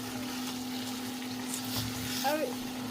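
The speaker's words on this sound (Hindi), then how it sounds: "तो सरसों के दाने डाले मैंने, उसके बाद थोड़ा मिर्ची डाली और थोड़ा प्याज, थोड़ा लहसुन, अदरक का पेस्ट," Mustard seeds, chili, onion, garlic and ginger paste fry in an iron kadhai, a steady low sizzle running throughout with a few brief stirring scrapes near the end.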